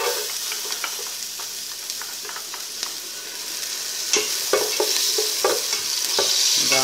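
Garlic and onion frying in oil in a pan, stirred with repeated scraping strokes over a steady sizzling hiss, close and moderately loud with no voices.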